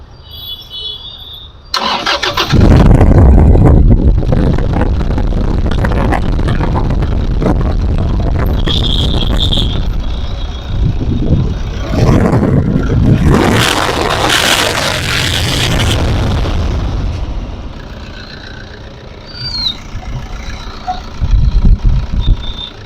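Toyota Innova GX diesel, a 2012 model in very good condition, cranks and fires with a loud start, then settles into a steady diesel idle that holds for about twenty seconds, with brief wind buffeting on the microphone.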